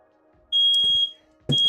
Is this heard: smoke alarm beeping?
yes